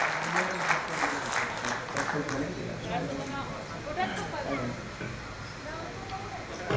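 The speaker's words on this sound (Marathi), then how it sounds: "सर्वांनी टकले सरांचं जोरदार टाळ्या वाजून त्यांचं स्वागत करावं" Audience applause at a tribal Dhangar literary conference in Solapur, greeting Dr. Abhimanyu Takle: a dense, steady roomful of clapping that holds throughout, with voices mixed in beneath.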